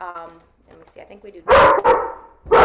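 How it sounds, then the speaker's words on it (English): A dog indoors gives loud, close barks, one at mid-clip followed quickly by another and a third near the end, right after someone speaks softly during a yoga breathing and meditation session. "Sorry about the dog."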